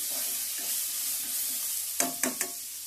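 Cucumber pieces fry in a pan with a steady, soft sizzle, then three sharp clacks of a spoon or spatula against the pan close by near the end.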